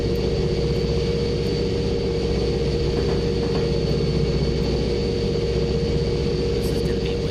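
An Amtrak F40PH diesel locomotive runs at full RPM, giving a loud, steady low engine roar that holds throughout, with a voice heard briefly over it.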